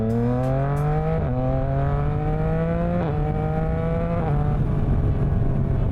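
A 2026 Yamaha R9 motorcycle with a BAUCE Racing tune and a Dominator GP3 exhaust holds a steady, loud, buzzing engine drone close by, its pitch stepping slightly up and down as the throttle shifts, with no talk over it.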